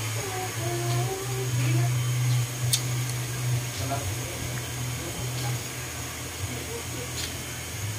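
A blower runs with a steady, loud whooshing hiss during an ingrown toenail treatment, continuing for several seconds with brief clicks and faint background voices beneath it.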